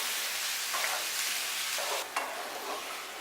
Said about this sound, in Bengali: তারপর শুকনো লঙ্কা বাটাটা দিয়ে দিলাম আর হলুদ গুঁড়োটা দিয়ে দিলাম। এবার এগুলো খুব ভালো করে আমি কষে নেব।